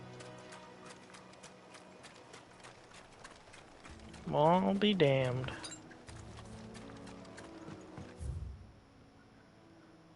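Chocobo mount footsteps in Final Fantasy XVI, a steady run of light clip-clop steps playing under game music, with a short bird-like call partway through and someone speaking briefly near the start.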